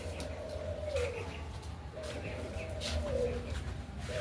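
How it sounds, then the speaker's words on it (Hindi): Pigeons coo in repeated low, rolling phrases, several calls spaced a second or so apart against a quiet outdoor background. "और वो वहाँ हमारा कबूतर, टेडी कबूतर।"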